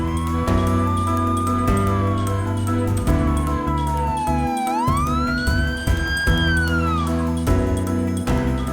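A siren wails in one long slow sweep, falling and then rising again, over a steady low engine rumble, fairly loud and close.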